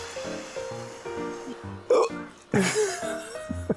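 A person hiccups sharply a few times at a snowy winter campsite in strong wind, the abrupt gulps breaking through ongoing conversation nearby.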